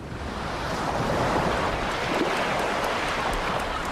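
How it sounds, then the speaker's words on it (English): Surf breaks against a rugged coastline in southern England, with steady, full-bodied wave wash and gusting wind roaring over the microphone, close and continuous with no voices. "Here, wind and wave eat away at the rock"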